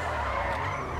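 A car skidding in the video game GTA 5, tires squealing in one continuous loud screech over engine roar, with no talk over it.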